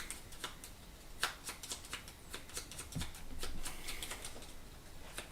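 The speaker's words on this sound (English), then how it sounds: "Let me shuffle his deck." A deck of Bloodborne board game cards is shuffled close by, with a run of crisp riffling flutters and light taps, quiet and with no speech.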